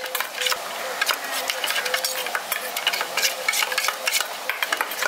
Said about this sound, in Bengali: জলটা দিয়ে এবার ভালো করে এটা গুলে নিচ্ছি